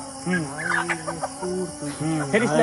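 Chicken clucking up close, a run of short throaty calls and squawks from a hen being held by a person, loud and continuous, with a faint voice mixed in.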